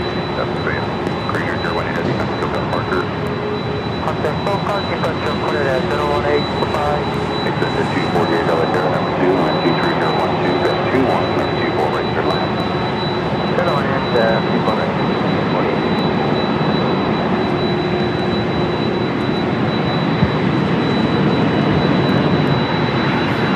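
Delta Boeing 767-400ER jet airliner at LAX: a sustained jet engine roar with a thin high whine running above it, steady and fairly loud throughout, with voices talking over it.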